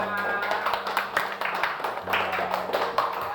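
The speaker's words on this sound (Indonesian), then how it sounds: "Tepuk tangan dulu untuk Rumana dan Kanza." A classroom of students applauds two classmates, with fast, overlapping hand claps that stay close and fairly loud while voices murmur faintly underneath.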